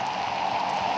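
In the video game Natural Disaster Survival, rain falls as a steady, dense hiss with no break.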